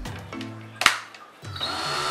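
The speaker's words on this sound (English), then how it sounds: "if you hold the chuck and run the machine in reverse," A handheld power drill runs in reverse to open its chuck jaws, whirring in two short bursts split by a sharp click and a brief pause, loud and close with no voices.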